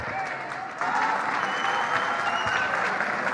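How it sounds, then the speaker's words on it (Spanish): Dense audience applause from a crowd at a public talk by an Argentine political figure, steady and loud, swelling after the first second and continuing without voices. "Ahora, Javier, ahí estamos escuchando los aplausos de la gente."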